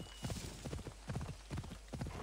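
A horse in Assassin's Creed Odyssey gallops in after being called, its hooves pounding in rapid rhythmic bursts over faint background game ambience, moderately quiet.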